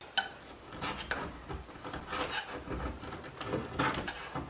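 Putty knife scraping and rasping across painted wood to distress it for a chippy boho finish, a run of close, fairly loud rubbing strokes with short bursts and no talk.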